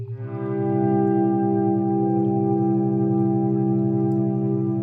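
A smooth, swelling synth tone imitating a Stratocaster guitar played with a volume pedal fades in softly, then holds a warm, steady chord with a gentle shimmer throughout.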